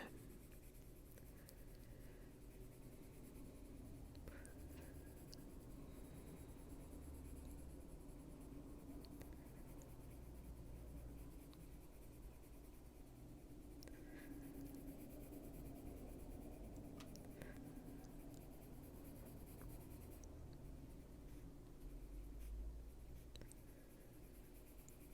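Colored pencil shading softly on paper, with light pressure, giving a quiet continuous scratchy rubbing that runs steadily and faintly the whole time, with no talking.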